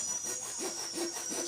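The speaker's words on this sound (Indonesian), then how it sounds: "tinggal beli gergaji seperti ini" A hand saw cutting while making a drain for a tarpaulin fish pond, producing quiet rhythmic rasping strokes, roughly three or four back-and-forth passes, close and alone.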